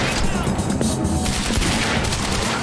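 Sniper fire in the video game Quantum Break, a dense, loud barrage of gunshots and booming rounds filling the whole stretch with no talk.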